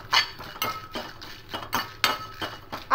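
Whole dry spices and dried red chilies stirred in a pan with a metal utensil while making ghugni: a series of sharp scraping clinks and clatters, uneven in rhythm, close and fairly loud.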